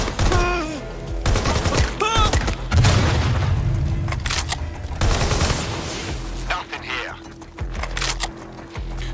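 AK rifle fire in Watch Dogs: Legion: loud, rapid bursts of automatic gunshots crack close by, broken by pauses, with a voice talking over parts of the gunfire.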